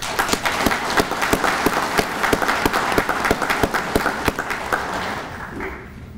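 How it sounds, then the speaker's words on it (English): Audience applause at an American Legion event in Indiana, a steady stream of clapping with some loud individual claps standing out, fading near the end. "Let's give them a round of applause"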